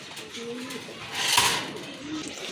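Pigeons of a quality spinning breed coo softly in short low rolling phrases, with a louder burst of noise in the middle and faint background voices.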